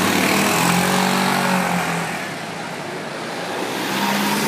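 Small promotional toy-like cars driving past on a road, a continuous engine drone that swells, dips and rises again as they pass, fairly loud and close, with no talk.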